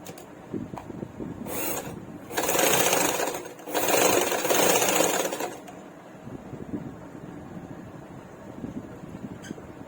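A sewing machine stitches a one-year-old baby's frock in three short motorized bursts, close and fairly loud, with quieter handling sounds in the pauses between runs.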